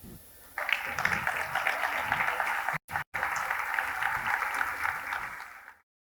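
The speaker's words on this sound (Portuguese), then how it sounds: "Então recebemos com uma salva de palmas Odair!" Audience applause rings out at a business talk on digital channels, greeting a speaker as he takes the stage. Steady, dense clapping fills the room for about five seconds, briefly cut out once, then stops abruptly.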